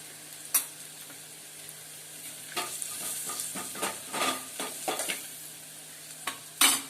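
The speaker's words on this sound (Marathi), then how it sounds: "आता कांदा लाल झाला की आपण त्याच्यामध्ये तिखट मसाला टाकूया चवीप्रमाणे।" Fried onion stirred in a pan with chili masala while making dry fish curry: a low steady sizzle with repeated scraping stirs of a spoon, several in quick succession, close and fairly soft, no talking.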